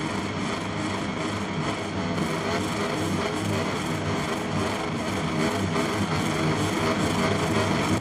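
Racing motorcycles roar around the Motegi circuit at the Japan Grand Prix in the MotoGP 23 video game. The engines drone loud and continuous and rise and fall as the bikes rev, with no talk over them.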